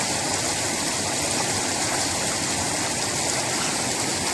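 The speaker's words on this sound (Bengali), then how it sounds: "পাহাড়ের ঠান্ডা জল" Cold mountain stream water flowing in the Yelbong River canyon, a steady broadband rush at constant loudness, close and continuous with no talk.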